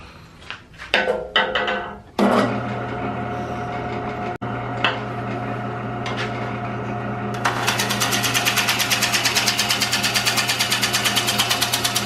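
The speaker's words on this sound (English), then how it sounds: "I'm going to use the wing right here and make a shear cut across the bowl" Jet 1440 wood lathe spinning a eucalyptus bowl as a tool takes a shear cut, a steady loud motor drone with a tonal hum after a few knocks, brightening into a dense scraping rasp toward the end.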